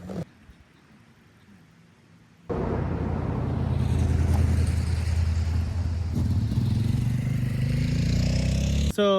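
A motorcycle rolling downhill in second gear catches and starts after a quiet stretch, then runs loudly and steadily with a throbbing engine drone and wind rush, with no one talking.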